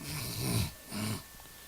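A man imitates snoring with his voice, two drawn-out nasal rasping snores, one longer then a shorter one, close and fairly quiet.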